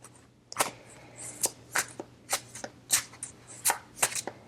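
Tarot cards shuffled by hand in quick, crisp bursts, about a dozen sharp riffling strokes in an uneven rhythm, close and fairly quiet against a low hum.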